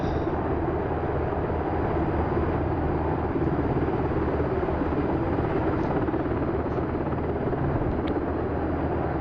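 Steady, loud rotor and turbine roar of a Pave Hawk helicopter in the DCS combat flight simulator, a continuous broadband drone with no talk over it.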